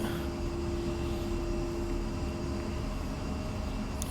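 A jet aircraft in DCS World taxis toward the runway, its engine a steady, droning whine with a constant tonal hum over broadband rumble, unchanging throughout with no voices.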